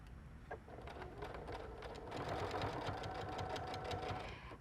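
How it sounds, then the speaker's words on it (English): Sewing machine running steadily as it stitches a 5/8 inch seam along the edge of a garment sleeve lining, a continuous close rhythmic whirr with rapid needle ticks for several seconds. "we're going to use that same 5/8 inch seam allowance and sew right along that sleeve edge"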